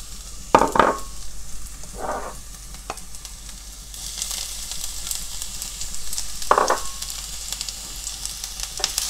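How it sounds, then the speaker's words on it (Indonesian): Ingredients for Manado-style Brenebon soup sautéing in a pan: a steady sizzle broken by a few brief, close scrapes and stirs, with the frying hiss growing louder partway through and no voices. "Sekarang waktunya menumis bahan yang kedua."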